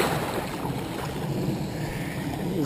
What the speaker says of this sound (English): It's very super windy and a lot of rain, but no thunder or lightning